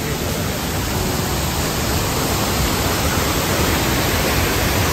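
Kulen Mountain waterfall in Cambodia, a steady broadband roar of falling water, loud and continuous without pause, heard from a short way off with no voices.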